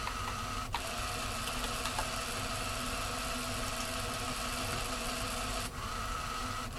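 A small DC motor driving the wheels of a Teensy breadboard robot gives a steady, close whirring buzz that runs continuously, with brief clicks near the start and end as the direction switches.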